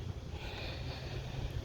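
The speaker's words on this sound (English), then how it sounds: "It is getting like really freaking windy today." Strong wind blows steadily past the microphone outdoors beside a 1996 Ford F150 pickup, a faint continuous rumble with low buffeting and no voices.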